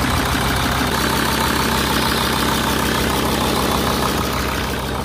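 An engine idles loudly and steadily up close while being checked for oil leaks, a dense continuous rumble with a slight knocking texture and no talk.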